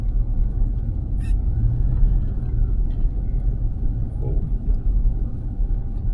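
A Dodge car creeps at walking pace across a wooden plank bridge, lined up on the rails. It makes a steady, close, low rumble with no clear speech.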